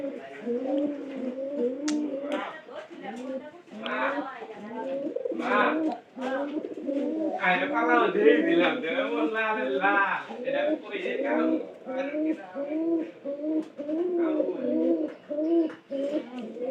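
Pigeons coo repeatedly in an enclosed room while a person talks continuously over the birds.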